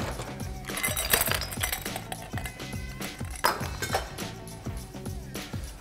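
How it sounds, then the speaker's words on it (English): Ice cubes clink and rattle as they are dropped into a cocktail glass for a honey sour, a series of bright, irregular chinks and taps with no talking over them. "in with the ice and also ice into the serving glass"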